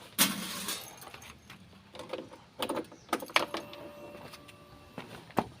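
Keys for a Honda Beat motorcycle jangle in several short metallic bursts, close and fairly quiet, with soft handling clicks between them.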